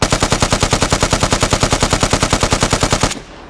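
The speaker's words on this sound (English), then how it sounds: "I'm just going to spam the gun." A Vz. 58 P rifle in the video game Vigor fires continuously in a rapid, evenly spaced burst of about thirty close, loud shots, then stops abruptly into a brief tail.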